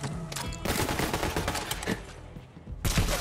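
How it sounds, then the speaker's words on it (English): Gunfire with bullet ricochets in Borderlands 3, a quick run of sharp cracks and metallic pings in bursts, loud and close, broken by a short lull before another burst near the end. "So that's the ricochet noise."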